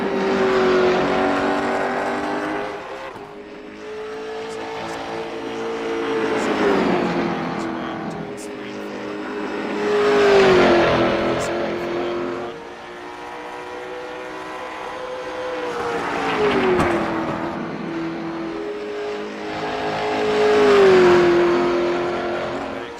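Race cars in a sim racing game lap the Nashville Fairgrounds track, their engine whine rising and falling in repeated passes, loud and close, while a commentator talks over them.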